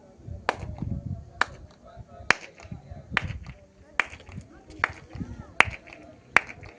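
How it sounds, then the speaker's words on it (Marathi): Sharp hand claps echo through the stone durbar hall of Raigad fort, seven evenly spaced claps each trailing a short reverberant tail, with someone talking softly between them. "टाळ्याचा आवाज बघा"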